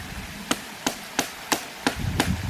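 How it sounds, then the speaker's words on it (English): A knife chopping notches into wood, six sharp, close woody strikes landing in a steady, evenly spaced rhythm with quiet pauses between. "that's chopping into wood like this. creating notches for different things"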